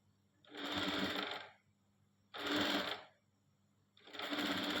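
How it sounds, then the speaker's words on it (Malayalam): A sewing machine stitches a fold of fabric in three steady runs of whirring, each lasting about a second, separated by short pauses, close and alone with no talk. "ഒരു മടക്കിലേക്ക് ഞങ്ങൾ സ്റ്റിച്ച് ചെയ്ത് കൊടുക്കണം."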